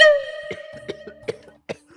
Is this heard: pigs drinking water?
no